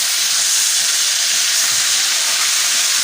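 Liver dropped into hot oil gives a loud, steady, hissing sizzle that fills the whole stretch without a break, close by with no voices.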